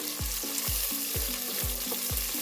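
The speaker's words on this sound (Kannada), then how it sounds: "ಈರುಳ್ಳಿ ಹಾಕಾದಮೇಲೆ ಲೈಟಾಗಿ ಫ್ರೈ ಮಾಡ್ಕೋಬೇಕು ಸ್ಟೋವ್ನ ಹೈ ಫ್ಲೇಮಲ್ಲಿ ಇಟ್ಕೊಂಡು ಫ್ರೈ ಮಾಡ್ಕೋಬೇಕಾಗತ್ತೆ" Finely chopped onions frying over high flame in a pan with cloves, a loud hissing sizzle broken by a regular rhythm of spatula strokes, about five scrapes in quick succession, close up with no talking.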